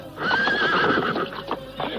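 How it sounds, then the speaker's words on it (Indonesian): A horse whinnies loudly and stamps as it charges into a fight, the neigh ringing out near and sustained over a busy clatter of hooves. "tiba-tiba kuda yang semula diam jadi beringas. Kuda itu menerjang ke arah perkelahian."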